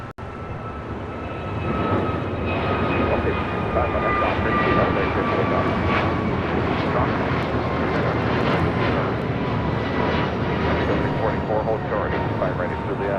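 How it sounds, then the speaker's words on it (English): An American Airlines Airbus A321neo, flight 658 to Miami, takes off at LAX. Its engine roar swells after a couple of seconds and holds loud and steady, with voices talking over it. "Next takeoff is American Airlines Flight 658 heading to Miami,"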